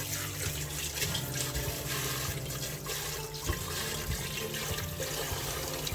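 Tap water running steadily over freshly harvested pechay being washed in a sink, a continuous splashing gush with small shifts as the leaves are handled, no talking.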